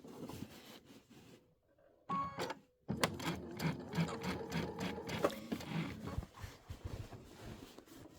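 An Avenir sewing machine topstitches through quilt layers with batting in short bursts. Brief pauses and faint handling sounds fall between the runs.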